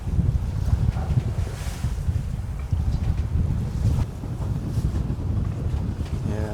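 Strong wind of about 18 to 19 knots roaring across a sailing boat at sea, a heavy continuous low rumble and buffeting on the microphone with faint water wash, voices talking underneath.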